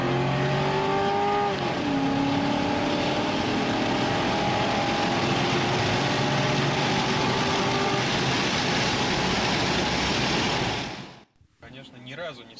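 A Volga GAZ 24 fitted with a Toyota 1UZ-FE V8 accelerates hard, its loud engine note climbing through gears with a clear shift early on, then cutting off abruptly near the end.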